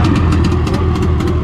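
A small boat's engine drones loudly and steadily up close at sea off Nusa Penida, Bali, a constant low rumble with rhythmic pulsing and no voices.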